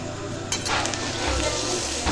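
Onions fry in a pan with a steady, close hiss and sizzle, joined by a brief clatter of stirring partway through.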